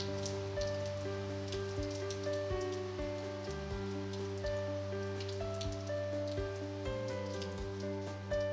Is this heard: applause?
no